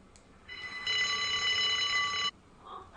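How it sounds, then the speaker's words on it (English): A loud electronic alarm rings out in a hospital in the video game Unheard, a steady bright tone that starts abruptly and holds for about two seconds before cutting off, with a quieter lead-in and faint trailing sound. "Is that the alarm?"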